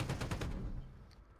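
An aircraft cannon on a P-51 Mustang in a flight simulator game fires a quick rapid burst of about six close, heavy shots that then rings out and fades.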